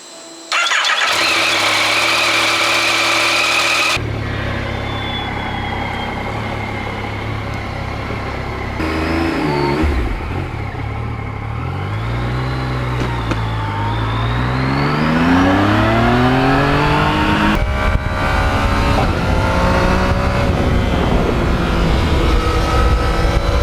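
A Yamaha MT-09 motorcycle engine fires up with a starter whir, then settles and is revved repeatedly in loud, close rising and falling sweeps, alone with no talking.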